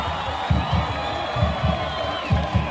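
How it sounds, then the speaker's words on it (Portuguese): Football supporters cheer and clap after a Campeonato Paraibano final match, a loud crowd roar with repeated rhythmic bursts of clapping or chanting throughout. "Aplausos, comemoração e muita festa entre torcida, jogadores e comissão."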